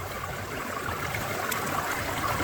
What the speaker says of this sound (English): now you're just washing it with the water